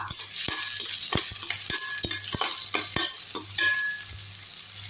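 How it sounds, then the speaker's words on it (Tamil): About a hundred grams of onion sautéing in a pan for a radish thokku, a steady close sizzle broken by repeated sharp scrapes and taps of a spatula against the metal, with no voices. "ஒரு நூறு கிராம் வெங்காயம் இருக்கும் நல்லா வதக்கி விட்டுடலாம்"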